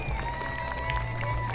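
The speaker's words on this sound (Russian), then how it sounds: "Ваши аплодисменты «Альтерике»!" Rock festival crowd in Tolyatti applauding and cheering for a sponsor, a steady dense roar of clapping and shouts that holds evenly throughout without a break.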